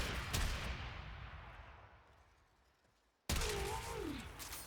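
A shotgun-style weapon fires in a shooter video game, a loud booming report that rings out and fades over about three seconds, then a second sharp blast cuts in with a whooshing tonal effect after it.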